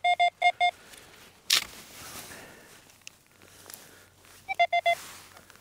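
Electronic beeps from a metal detector in quick bursts of four, a pause with a sharp rustle, then another burst of four, over quiet outdoor background in a field.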